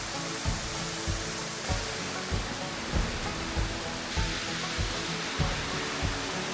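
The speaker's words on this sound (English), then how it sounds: "The first one, Jemblang Waterfall, was so cool." Jemblang Waterfall in the lush tropical rainforest of Sidemen, Bali, a constant roaring rush of falling water with a faint rhythmic thump recurring beneath it.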